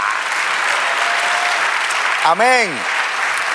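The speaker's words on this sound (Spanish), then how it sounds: "Dale un aplauso." A church congregation breaks into applause during a prophetic sermon, a steady, dense crowd clapping that fills the whole stretch, with a brief spoken word and a rising musical tone cutting in partway through.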